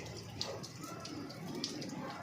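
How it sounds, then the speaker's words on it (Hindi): Water pouring down from an overflowing rooftop tank beside village plants, a steady soft splashing rush with faint drips, fairly quiet and continuous, no clear speech. "इधर ये पानी गिर रहा है ऊपर से, टैंकी फुल हो गई थी, ये उसका पानी है।"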